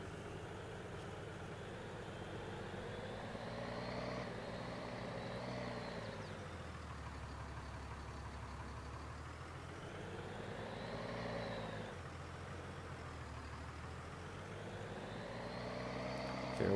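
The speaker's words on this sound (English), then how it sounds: "I love the sound of this thing idling too" A 2020 Ram 5500 service truck in Farming Simulator 22 idles faintly and steadily, its low diesel drone slowly swelling and easing in a gentle cycle.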